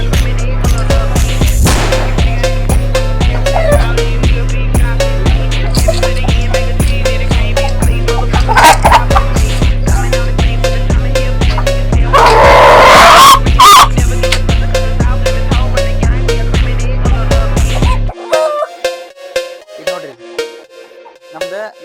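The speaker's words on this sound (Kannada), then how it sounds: "ನಮ್ದು ಲಾಸ್ಟ್ ಬ್ಯಾಚ್ ಕೋಳಿ ಇದೆ." A loud, dense chorus of DP cross chickens crowds a poultry farm shed with continuous overlapping clucks and squawks, then thins into sparser, quieter calls near the end.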